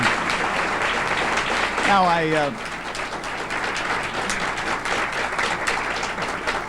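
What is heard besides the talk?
audience applause at a U.S. Senate debate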